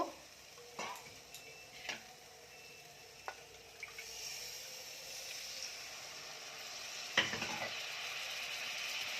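Cashew and melon seed paste is stirred in a pan: sporadic scrapes and knocks of a spoon over a soft sizzle that grows steadier and louder, close and quiet, with no talk.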